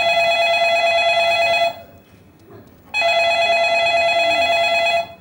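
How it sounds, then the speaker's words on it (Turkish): A telephone rings loudly in a comedy sketch show: a shrill electronic ring that sounds for almost two seconds, then a short pause, then a second identical ring, close and clear. "Hemen bir telefon çalar"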